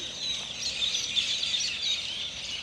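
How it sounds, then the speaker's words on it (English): Birds in a tree full of nests in Innisfail, Australia, form a dense, steady chorus of high chirps, a constant chattering wash at moderate distance. "a tree with lots of birds."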